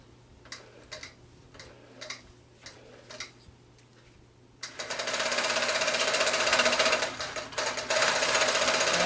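Quilt Butler quilting machine stitching a quilt starts up partway through: a few soft ticking taps first, then a loud, steady, rapid mechanical whir that keeps going to the end.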